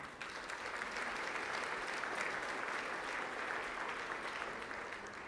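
Sustained applause from a dinner-hall audience at an awards event honoring former San Francisco Mayor Willie Brown, a dense, steady wash of clapping that swells slightly and holds for several seconds with no talk over it.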